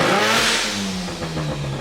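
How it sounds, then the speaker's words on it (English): A rotary engine car revs sharply, a brief rising blat that then falls back toward a rough, buzzy idle, close and loud with no voices. "All right, so when I rev, guys, watch this number."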